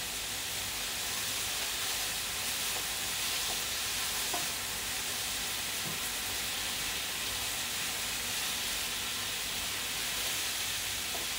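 Zucchini, cucumber, eggplant and cabbage stir-frying in a pan, a steady loud sizzling hiss with faint scraping stirs throughout, close and continuous with no talk.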